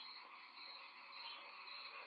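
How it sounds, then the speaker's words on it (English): A dense chorus of frogs calls in the wilderness near water, forming a continuous, even hiss of overlapping croaks and trills with no pauses and no voices, faint and distant in level. "these frogs are so loud"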